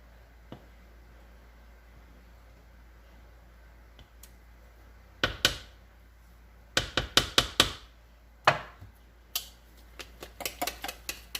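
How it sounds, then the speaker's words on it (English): A whisk beats thin crepe batter for manicotti in a bowl, giving quiet, irregular bursts of rapid clicking taps with short pauses between them. "I'm going to switch to my whisk."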